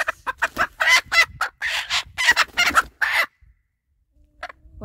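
A white-egg-laying hen clucks in a rapid series of loud, close bursts for about three seconds, then falls quiet apart from a faint later squawk.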